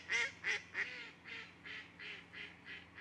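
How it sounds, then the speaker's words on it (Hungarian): Ducks quack in a steady run of about nine calls, loud at first and then slightly softer, with no talking. "kacsák"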